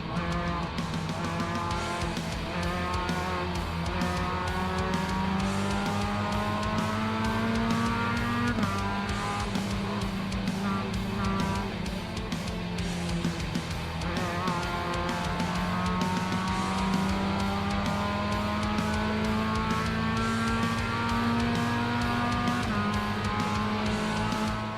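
Mazda MX-5 Cup race cars in the iRacing simulator, heard as a loud, steady engine drone from close by, with pitch rising and falling through gear changes and braking, plus occasional tire squeal and no talk.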